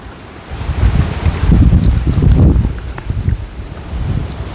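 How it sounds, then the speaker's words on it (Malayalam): Strong wind gusts outdoors, a loud, low rumbling roar buffeting the microphone that swells and eases in uneven surges. "പെരും കാറ്റ്"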